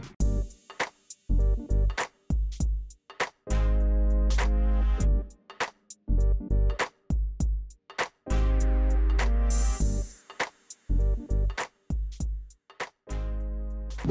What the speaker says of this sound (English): I'm sure you guys can hear too much wind.